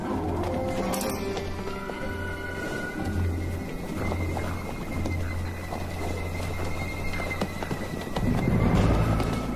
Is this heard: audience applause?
no